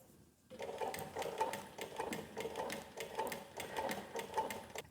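An industrial walking foot sewing machine, model 1903SX, stitches in reverse with a rapid, rhythmic mechanical clatter that starts after a brief pause and runs steadily, close and moderately quiet.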